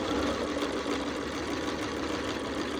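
A sewing machine stitches a quilt block, running as a steady, close, continuous mechanical whir for the whole stretch without pause.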